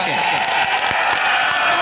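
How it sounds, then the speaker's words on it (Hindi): A crowd at a farmers' protest rally claps to welcome an arriving politician, a brief burst of scattered applause mixed with raised voices. "मैं चाहता हूं कि प्रियंका जी के स्वागत में एक ऐसी ताली बजे जो वहां से जहां वो आ रही हैं वहां तक उसकी गूंज जाए"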